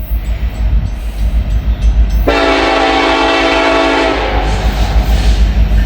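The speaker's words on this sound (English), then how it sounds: "It looks like a grain train to me." A CSX grain train rolls past loudly, its horn blaring in a sustained chord for a couple of seconds over the continuous rumble and clatter of the rail cars.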